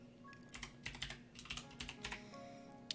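Keys clatter in short irregular bursts on a computer keyboard, close and fairly quiet, with no talking over the taps.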